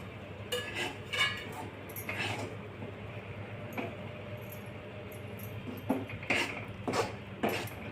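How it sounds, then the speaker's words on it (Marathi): Wheat flour being dry-roasted and stirred in a pan for homemade mixed laddoos, giving scattered clinks and scrapes of a spoon against the pan over a low, steady background, with no talking. "आता गव्हाचं पीठ भाजून घेणे."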